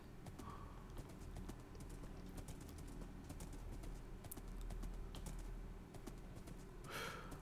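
Horse hooves clip-clop steadily on the ground in Minecraft with the Mekanism modpack, a fast, regular patter of light knocks running throughout under faint background sound and a brief bright chirp near the end.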